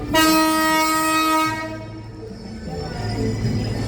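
A train departing Tuntang station near the Ambarawa railway museum: a loud, close horn blast lasting about a second and a half, then a rumbling, shifting rail hum as the train moves off.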